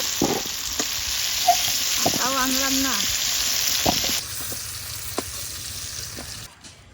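Kohlrabi frying in leftover potato-frying oil over a wood fire, a steady soft sizzle under brief speech that fades quieter midway.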